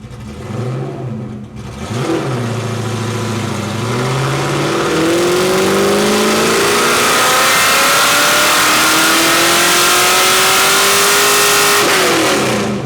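Fox-body Ford Mustang engine on a chassis dyno, revving steadily upward through a full pull, loud and close with a rising whine, ending in a sharp lift-off.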